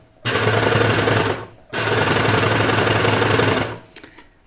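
A sewing machine stitches fabric for a pajama top in two loud, steady runs of rapid mechanical whirring, each over a second long, with a brief pause between them and a small click at the end.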